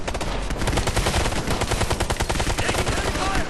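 Gunfire in the video game Tom Clancy's Ghost Recon: Future Soldier, rapid automatic bursts and overlapping shots forming a loud, continuous suppressive barrage throughout.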